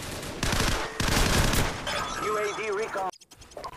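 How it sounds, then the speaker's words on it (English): Gunfire in Call of Duty 4: Modern Warfare during a Search and Destroy match on the Chinatown map: loud, dense bursts of automatic shots in the first half, then fading game sounds. "Now, I hear gunfire, and obviously someone's chasing after my teammates"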